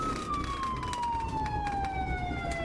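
A police car siren wails continuously with a slowly falling tone during a high-speed chase, over a rumbling vehicle background, fairly close.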